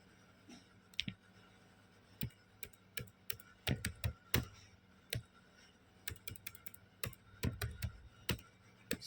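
Keys on a computer keyboard tapped in short irregular bursts as a student ID number is entered, crisp close clicks with brief pauses between runs.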